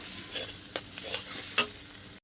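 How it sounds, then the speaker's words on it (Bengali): Masala fries in a pan for a katla fish kalia, with Kashmiri chili powder just added; a close, constant sizzle carries a few quick scraping stirs before it cuts off abruptly. "1 চামচ কাশ্মীরি লঙ্কার গুঁড়ো দিয়ে আমি ভালো করে নেড়ে চেড়ে নেবো।"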